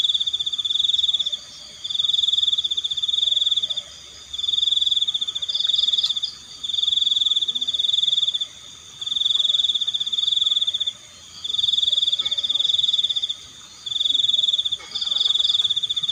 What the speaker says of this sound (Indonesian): Kita sambil menikmati suara cangkrik, suara kodok, suara tokek.